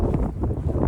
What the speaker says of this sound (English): I know it's insanely windy today.